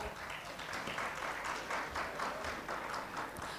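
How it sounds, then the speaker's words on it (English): A crowd at a corporate summit panel applauds continuously, a dense wash of many hands clapping at moderate volume with no pauses. "The round of applause should not stop."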